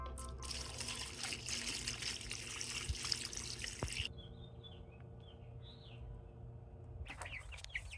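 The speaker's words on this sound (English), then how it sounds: "Time to water the pineapple." Water trickles steadily while a pineapple plant is watered, a close, continuous wet dribble for about four seconds that then thins to a quieter flow, with faint bird chirps in the background.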